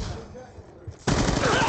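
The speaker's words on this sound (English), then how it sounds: "Death machine spinning up" The Death Machine minigun in Black Ops II opens up after a brief quiet spin-up, unleashing a loud, dense, continuous roar of rapid fire that fills the rest of the moment.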